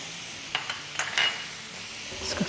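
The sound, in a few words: whole spices sautéing in a pan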